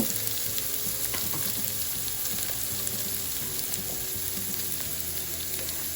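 Cabbage frying in a pan for vegetable fried rice, a constant close sizzle with crackling pops and occasional stirring clatter throughout.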